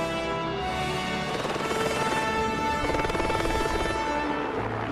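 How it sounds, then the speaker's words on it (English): A helicopter at a remote, helicopter-only film location in New Zealand gives a loud, steady rotor drone with rhythmic blade chop, close and continuous throughout. "a lot of our locations were helicopter-only access, so we got very, very good at loading in and out of choppers"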